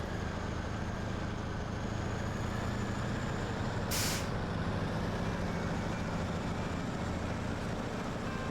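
Pacific logging truck driving in Snowrunner, a steady, close diesel engine drone holding throughout, broken midway by a brief sharp hiss of air.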